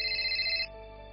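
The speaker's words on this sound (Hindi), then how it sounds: "तुम फोन अटेंड कर लो अपना।" A telephone rings indoors with a bright, warbling electronic trill that pulses evenly, then cuts off abruptly partway through, leaving a quiet room hum.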